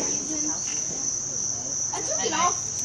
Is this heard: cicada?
yes